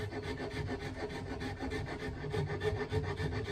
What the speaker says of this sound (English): Then we'll take a little rasp, small rasp